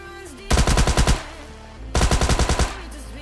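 Automatic gunfire in the mobile battle-royale game PUBG Lite, two loud rapid bursts of about eight shots each with a short pause between, close and alone without talk.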